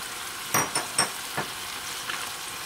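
Spiced minced meat filling for stuffed bell peppers, seasoned with turmeric, coriander, cumin, salt and nigella seeds, sizzling in a pan with a few sharp clinks and stirring scrapes over a steady low hiss.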